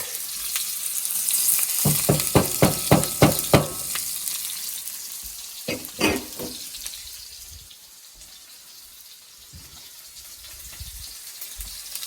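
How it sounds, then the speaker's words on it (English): Garlic and onions fry in a pan, with a broad sizzle running throughout and a burst of sharp clatters from stirring early on, then a fainter, steadier hiss with occasional soft knocks. "I guess the proper term is to lightly fry the garlic and onions."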